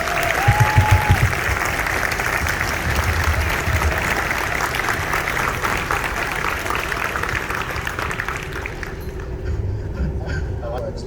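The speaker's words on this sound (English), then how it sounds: "Give these guys a huge round of applause" Audience applause fills a school gymnasium or hall at a middle school winter band concert, a steady, dense wash of clapping lasting over ten seconds before thinning slightly at the end.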